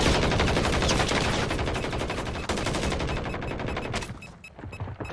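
Video game gunfire: a loud, close, rapid run of dense repeated shots lasts about four seconds, then drops away to quiet with a final sharp hit at the end.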